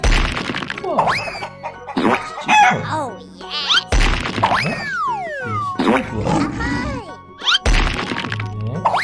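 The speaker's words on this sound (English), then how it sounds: "chickens, man." Cartoonish chicken clucks and squawks with bouncy sound effects in a 3D animal slide video game, busy and loud, with a voice speaking briefly among them.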